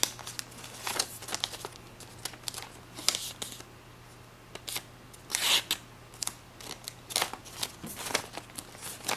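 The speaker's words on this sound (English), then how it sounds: "So grab this flap and fold it the other way along that crease." Paper being folded and creased into a needle-style paper plane: a series of short, close crinkling and rustling bursts, some sharp and loud, spread irregularly with no talk.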